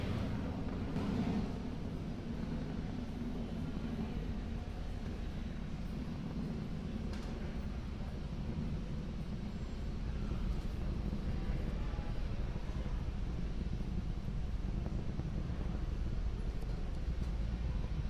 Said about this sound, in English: That Falcon 9 rocket is now throttling back up to full speed as it ascends through the atmosphere.